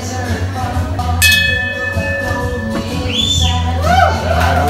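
A bell rings out sharply to start a restaurant eating challenge of 800 grams of meat, onion rings and potatoes, its bright tone lingering amid loud crowd chatter and a ringing whistle-like sweep.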